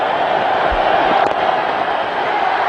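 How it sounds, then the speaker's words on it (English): A stadium crowd at a cricket match in Ahmedabad roars in a dense, loud, sustained wash of cheering that fills the whole stretch without a break. "elation all over the crowd"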